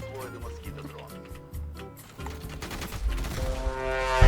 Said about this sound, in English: Dude was shooting at someone else and I walked into the bullets